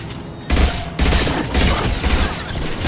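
Rapid video-game gunfire in bursts, a dense crackling volley with heavy booming low end starting after a quiet moment, continuing loud and steady throughout.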